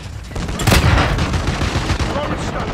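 Gunfire in the video game Call of Duty: Modern Warfare II, a loud burst of shots near the start followed by sustained rattling fire and battle noise throughout.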